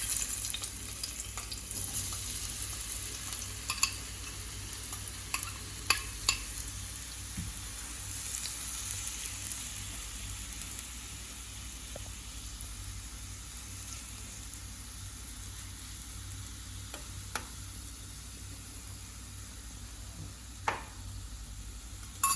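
Radish pieces shallow fry in hot coconut oil, giving a soft, steady sizzle with scattered small pops and crackles that goes on for a long while, fairly quiet and with no talking.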